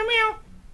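A human voice mimics a cat's meow, one loud drawn-out nasal cry that fades quickly into quiet room tone.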